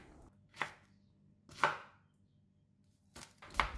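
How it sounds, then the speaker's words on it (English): Knife chopping red chili into small pieces on a cutting board, four distinct sharp thuds spaced about a second apart, close and clear with no voices. "Next, cut the red chili into small pieces."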